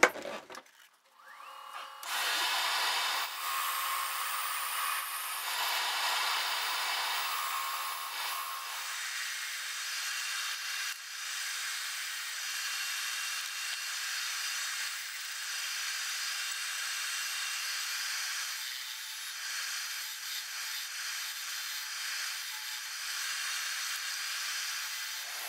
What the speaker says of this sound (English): get a parting tool and straighten the end off here and put a tenon on